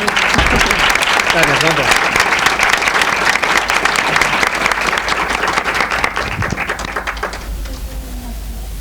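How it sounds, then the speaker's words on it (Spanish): A theatre audience at a public talk with a film director breaks into sustained applause, dense clapping filling the room for most of the stretch while a voice speaks briefly over it near the start, tapering toward the end. "Vamos a darle un aplauso."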